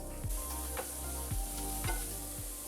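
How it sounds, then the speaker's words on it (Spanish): Onions and bell pepper sautéing in coconut oil in a pan, a steady sizzle close by with several soft periodic stirring scrapes, no talk. "Ahora en el sartén y con el aceitito que quedó de coco vamos a sofreír cebollas bien troceaditas y ají morrón"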